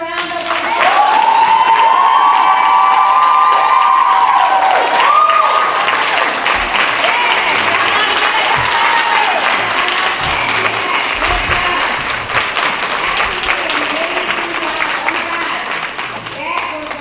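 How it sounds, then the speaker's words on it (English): Sustained audience applause and cheering at a full-figured women's national pageant, a dense wash of clapping filling the hall for many seconds, with voices and whoops mixed in throughout. "give them another round of applause"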